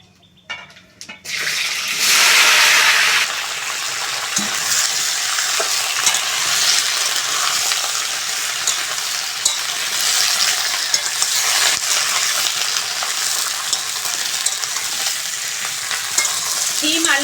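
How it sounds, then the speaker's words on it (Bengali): Flat beans, potato and eggplant fry with dried chillies and five-spice seeds in a hot pan, a loud continuous sizzle that surges as the vegetables go in and keeps hissing steadily alongside occasional stirring clicks. "বেগুন ভালো করে ভেজে নেব"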